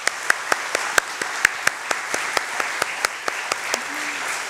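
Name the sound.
church congregation applause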